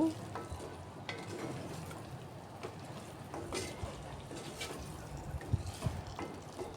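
Capsicum and tomato curry stirred in a frying pan, with a steady low sizzle and scraping strokes of the spoon that continue throughout at a moderate, even level.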